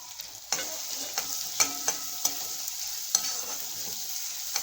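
Sautéed onion, chili and garlic with turmeric and salt stirred in a pan: a soft continuous sizzle with a few sharp clinks and scrapes of the spoon against the pan.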